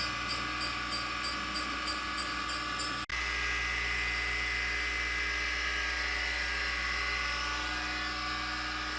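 Metal lathe taking light two-thou cuts on a left-hand tap, a steady close machine whine and hum that cuts off abruptly with a brief click before the motor drone continues at a lower, even pitch.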